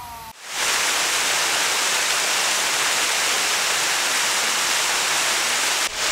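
Artificial waterfall beside a hanok public library in Jongno, Seoul, pouring in a loud, steady broadband rush that starts abruptly and holds evenly before cutting off near the end.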